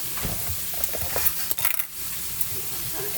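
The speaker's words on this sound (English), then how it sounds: "I'm going to stir. The butter mixed in with the rice." Butter and rice being stirred in a sizzling frying pan, with a soft steady fry and scraping stirs plus a few light clinks of utensil on pan, close and fairly quiet, no talk.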